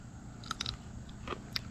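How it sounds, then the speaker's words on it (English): A crisp garden vegetable, its texture compared to watermelon rind, is bitten into and chewed outdoors, giving a few sharp crunches close by amid low background rumble. "They're so bitey and like crisp when you chew them."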